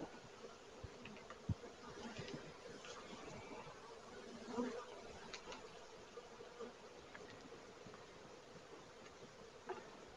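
Honeybees buzzing around an opened hive during an inspection, a faint continuous drone with scattered clicks and handling noises, distant and low in level.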